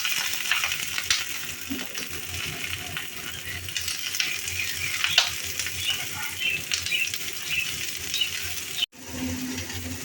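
Continuous crackling sizzle of dhekia fern greens frying in hot oil, close and steady, with occasional stirring scrapes and a brief cut near the end.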